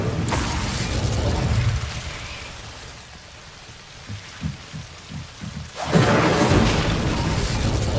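The Incendio fire spell is cast in Hogwarts Legacy, a loud rushing, crackling whoosh of flame that eases into softer thumps and then flares up strongly again.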